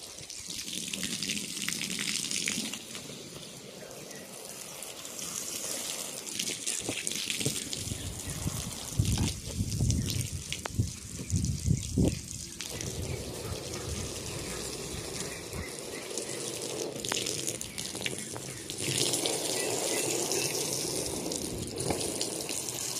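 A motorized pressure washer spraying water over a carpet being washed outdoors, a loud continuous hissing gush that swells and thins as the spray moves, with splashing and brief changes in intensity, and no one talking.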